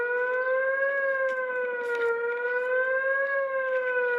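An emergency alert siren like an ambulance or police siren wails in a sustained, slowly wavering tone with strong harmonics, loud and continuous with no voices.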